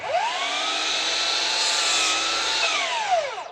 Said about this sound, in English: I'll just cut that freehand with a circular saw.